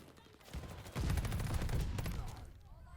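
Rapid automatic fire from an SMG-style weapon in Call of Duty: Vanguard, a loud dense burst running through most of the stretch, with faint speech in the background.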